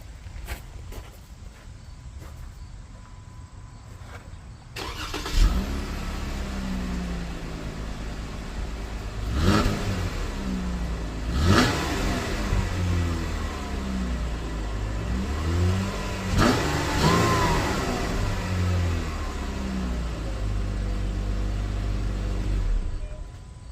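Jeep Wrangler on its factory exhaust, idling with several sharp revs rising and falling in a steady rhythm, close and moderately loud, no talk over it.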